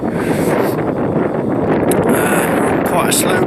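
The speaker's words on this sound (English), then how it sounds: "it's a bit windy" Strong wind roars steadily across a river valley, buffeting the microphone with a continuous, loud rush throughout.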